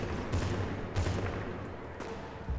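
Gunfire in the video game Bad Company 2, a few quick bursts of shots at low level, spaced about half a second apart under a dull background.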